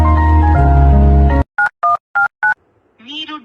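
Four short keypad tones ring out in an even rhythm as a phone number is dialed on a mobile, following a steady sustained tone and then a voice starting at the end.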